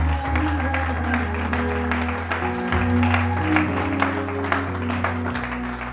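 A church congregation applauds and acclaims together during a worship service, with steady, dense clapping and crowd noise held over sustained music throughout.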